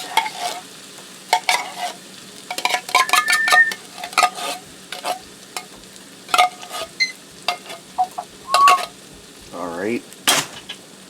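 Cheddar cheese soup stirred into a taco casserole, with intermittent spoon scrapes and clinks against the dish, close by, broken up by short pauses and a brief vocal sound near the end.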